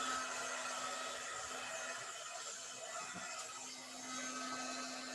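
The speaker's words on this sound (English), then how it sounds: "you're going to let your heat tool warm up for just a second, and then you'll watch and see it melt the embossing powder" A craft heat tool blows steadily to melt embossing powder on a card, a constant close whirring airflow with a faint electrical hum running alone for several seconds.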